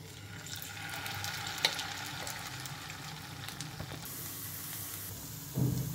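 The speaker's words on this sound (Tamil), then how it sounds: "அதில் போட்டு நம்ம ஃப்ரை பண்ண போகிறோம்." Paneer pieces frying in oil in a nonstick pan, a soft steady sizzle running throughout at low level, with a couple of brief clinks and a small bump near the end.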